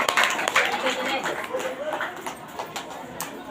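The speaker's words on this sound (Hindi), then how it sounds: "इसलिए आप लोग तेज ताली के साथ परमेश्वर को धन्यवाद दें।" A congregation at a Hindi-language church ministry gathering applauds loudly, a dense and steady wash of many hands clapping close by that fades slightly toward the end.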